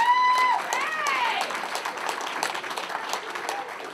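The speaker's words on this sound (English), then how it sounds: "Can we get a round of applause for our MC tonight, Mr. Ray Underwood?" Applause from an awards-night audience for the master of ceremonies, scattered clapping with cheers and whistles, with voices talking through it.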